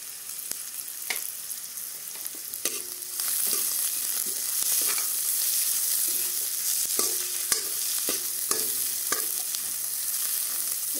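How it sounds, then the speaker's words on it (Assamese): Spices including red chili powder are stirred together and fried in oil. A quiet hiss swells into a fuller sizzle, punctuated by scattered scraping knocks of a spoon against the pan. "এইখিনি একেলগে মই মিক্স কৰি তেলতে বহাই লৈছোঁ।"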